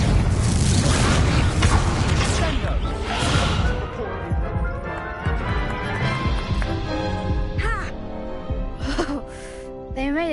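A Confringo fire-blast spell in the video game Hogwarts Legacy, a loud booming explosion at the start that rolls into crackling debris and a fading rumble, followed by quieter game sounds and brief chirping tones.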